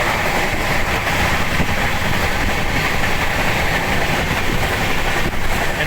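A train from Bengaluru bound for Howrah station rushes past at speed, a steady, loud roar of wheels and engine that holds unbroken from start to finish, with no voices.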